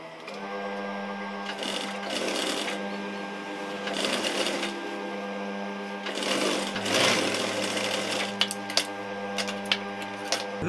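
A sewing machine stitches folded fabric in bursts of rapid mechanical whirring and clatter, with short pauses between runs and a steady motor hum underneath, close and clear.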